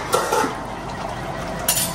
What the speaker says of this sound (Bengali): এখানে মেথির ওই টোপলাটা দিয়ে এখন ভালো করে নাড়া দিয়ে দিচ্ছে